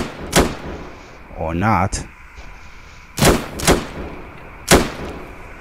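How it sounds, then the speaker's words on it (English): Loud, close gunshots in the Roblox game Bodycam: a single crack, then three sharp reports spaced about a second apart, with a short spoken remark in between. "Somebody's shooting, bro!"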